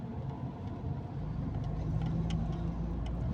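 Car engine of a learner driver's training car revving steadily as the driver releases the clutch and accelerates on a driving lesson, a continuous close engine drone rising slightly in level with no talk.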